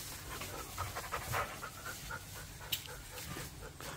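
A rescued dog panting close by in quick, rhythmic breaths, with a short bump partway through.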